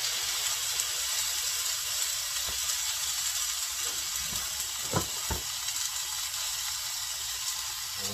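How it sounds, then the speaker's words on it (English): The fatty side of a corned beef piece sears in a pan over high heat. A steady, close sizzle fills the whole stretch, with a couple of brief clinks near the middle. "We're gonna take the fatty side first and sear it."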